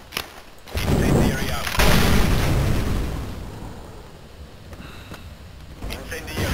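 An incendiary grenade goes off in CS:GO on the Cache map, a loud roaring whoosh of fire that swells for a couple of seconds, then fades under ongoing game noise with a few later pops.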